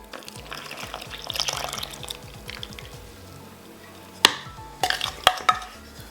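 Foaming yeast and water mixture is poured into a bowl of flour, salt and butter, a soft liquid trickle followed by a few sharp knocks and clatters of the bowl or utensil.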